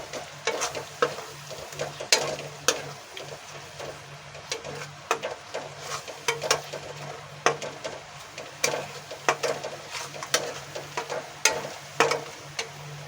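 Spiced masala with added yogurt sautés in a pan for a cauliflower-potato curry, with a steady sizzle broken by repeated scraping stirs of a spoon at an uneven rhythm, close and clear, with no talking.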